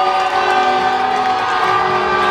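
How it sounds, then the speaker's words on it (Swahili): A dense, loud crowd cheers and applauds without a break at a UVCCM youth-wing rally in Tunduma, Songwe, with steady horn-like tones sounding through the din. "nipigieni makofi"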